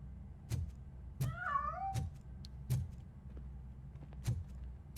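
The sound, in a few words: cat meowing in the Robocop video game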